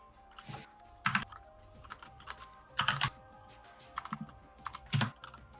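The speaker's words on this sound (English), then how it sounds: "your keyboard is really loud" Rapid bursts of typing on a loud mechanical keyboard during a homebrew D&D session, close and clicky, arriving in several clusters of keystrokes with short pauses between them and no voices.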